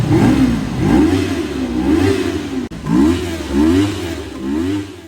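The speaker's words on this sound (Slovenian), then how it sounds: "pa naredimo še en sound test. Majčken, da se ogreje." A Kove Cobra 321 motorcycle engine revs repeatedly in a sound test while warming up, with rising and falling throttle blips, loud and close, and a brief cut midway.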